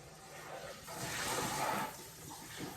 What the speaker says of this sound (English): So I do spend a little bit more time rinsing before I put it on the wash cycle.